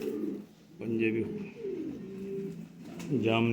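Pigeons coo close by, with a few soft, throaty, rolling calls over a few seconds.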